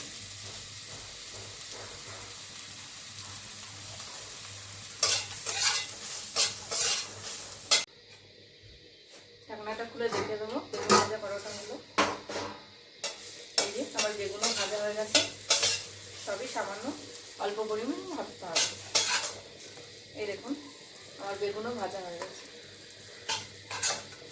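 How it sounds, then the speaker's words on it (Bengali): Vegetables for a rohu fish curry with bitter gourd, eggplant and potato fry in a pan with salt and turmeric, a soft sizzle under repeated spatula scrapes and metallic clinks, with a short quiet gap partway through. "এখন অল্প লবণ হলুদ দিয়ে ভেজে নিচ্ছি"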